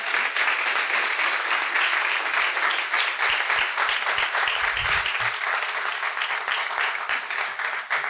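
Sustained applause from a large audience at a graduation ceremony, dense and steady for the whole stretch with no voices standing out.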